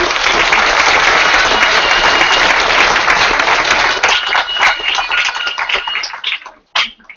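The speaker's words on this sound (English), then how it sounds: "Would you give them an applause, please?" Audience applause at a school board meeting, dense and loud at first, then thinning into scattered claps before cutting off near the end.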